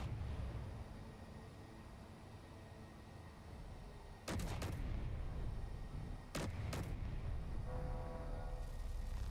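A turret opens fire in Space Engineers: two short clusters of sharp, rapid shots cut through a steady loud mechanical hum and rumble, about two seconds apart.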